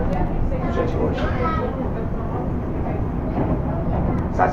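Steady rumbling interior noise of a moving passenger train, a constant low roar with faint rattles, continuous throughout with no clear speech over it.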